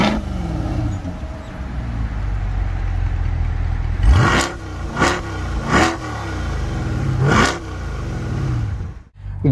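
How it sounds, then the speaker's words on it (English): A 2020 Chevrolet Corvette C8 with the Z51 package revs hard in Sport Plus and Track modes, four sharp throttle blips rising and falling over a steady idle, loud and close. "I want to show you sound that this car produces in a different modes. That is Sports Plus and track mode."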